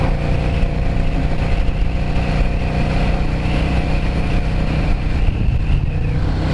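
A 2003 Yamaha Drag Star 650 motorcycle being ridden through city traffic, its engine droning steadily and loudly up close throughout with constant road and wind noise, no voices.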